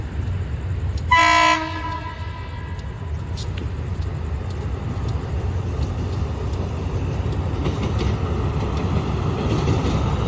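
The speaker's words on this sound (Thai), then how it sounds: "ก็จะมีขบวนรถไฟวิ่งนะฮะ" A train horn blasts briefly near the start as a train passes a Bang Sue station platform in Bangkok, then a steady low rumble rolls on through the rest, with faint higher clatter.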